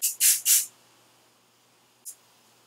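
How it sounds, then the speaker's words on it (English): Oil of Morocco Argan Oil Hairspray gives three quick close hissing bursts in a row, followed after a pause by one shorter, fainter puff. "Next we have the Oil of Morocco Argan Oil Hairspray."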